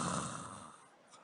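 A preacher imitates someone snoring, giving one loud, rasping, nasal snore that fades into a breathy tail, heard alone and close up.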